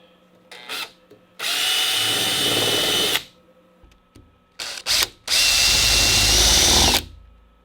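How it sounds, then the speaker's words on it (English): Power drill with a countersink bit boring countersinks into screw holes in the wooden boards of a winter camping toboggan, heard as two loud sustained whirring bursts separated by short trigger blips, close up with no talk. "I'm going to put in my countersink bit. And then I'm going to countersink"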